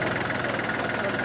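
A small 3-cylinder tractor engine idles in a steady, even low rumble with a faint rhythmic knock, close and continuous.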